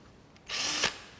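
A cordless drill's chuck spins briefly to tighten down on a freshly inserted bit, a single short whirring burst that rises and stops, heard close up with no talking.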